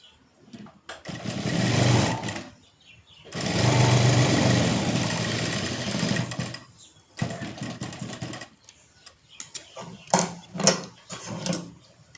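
A sewing machine stitching a baby's half pant runs in two longer whirring bursts, then shorter stop-start runs with small clicks, close and fairly loud with no talking.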